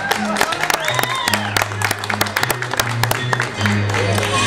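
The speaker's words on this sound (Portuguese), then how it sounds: "Muitas palmas aqui para Rita" An audience claps for a singer at a Brazilian cantoria street performance. Scattered, uneven claps run throughout over sustained, droning viola-like instrumental tones.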